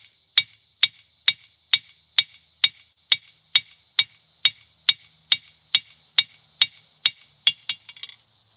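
A hammer strikes metal at a forge about sixteen times in a steady rhythm, flattening it, each blow a sharp ringing clink, close and clear with nothing else heard.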